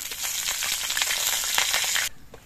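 Black cumin (nigella) seeds crackle and sizzle steadily in hot oil, a dense close-up frying hiss that stops abruptly near the end.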